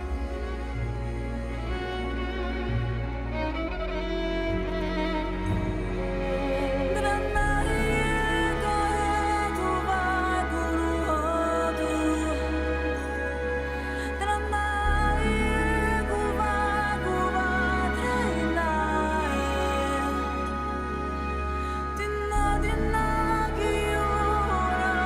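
A continuous anime soundtrack piece plays throughout, instrumental, layered and melodic with a steady low bass, loud and full, no talking.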